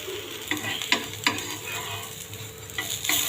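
Oil sizzles steadily on a black-eyed pea dosa in a hot pan, a close, continuous frying hiss broken by a few soft scraping taps.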